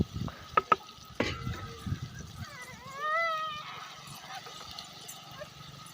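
Vegetables, eggplant and potato, stirred in hot oil with coriander and chilli powder: a soft sizzle with scraping stirs and a few sharp clicks of the spoon, moderately close, with a brief high whine partway through.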